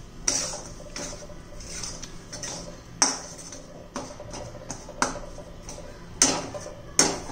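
A spoon scrapes and taps in a pan while gram flour and powdered sugar are stirred together for besan modak, giving irregular metallic clinks and ticks at close range with no talking.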